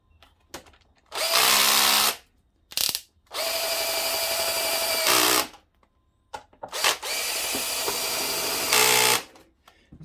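A power tool on a ZX6R motorcycle runs in short whirring bursts of a few seconds each, separated by brief pauses and clicks, loud and close with no talk.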